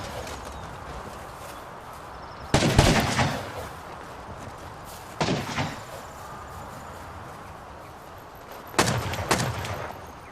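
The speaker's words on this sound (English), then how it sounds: "conserving their ammo as the blue team fires away, destroying a couple twig foundations" Gunfire during a night raid on twig foundations in the survival game Rust, with three separate loud bursts of shots spaced a few seconds apart over a quiet, steady background.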